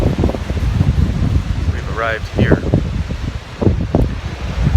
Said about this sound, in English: As you can probably hear, here is a little bit windy.